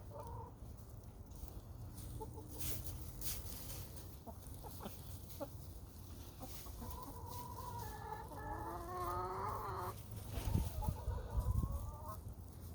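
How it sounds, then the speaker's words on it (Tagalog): White Leghorn hens and other chickens around a coop, clucking and calling in short bursts over an insect-like background hum, with a run of louder drawn-out calls toward the end. "ayan si higanting manok"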